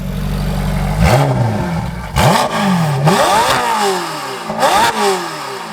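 A Ferrari F8 Tributo with a tune and full exhaust revs hard on a dyno, loud and close, with several sharp throttle blips rising and falling in quick succession.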